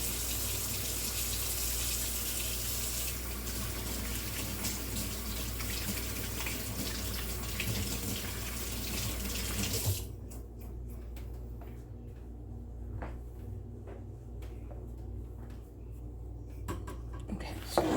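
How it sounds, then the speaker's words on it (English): Hands being washed under a running kitchen tap, a steady close rush of water for about ten seconds that then cuts off, leaving quiet rustling and faint whispered talk. "Let me wash my hands."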